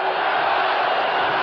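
Stadium crowd roaring steadily in support of the Miami Dolphins offense during a 1980 NFL game against New England in Miami, a dense, continuous wash of cheering with no break.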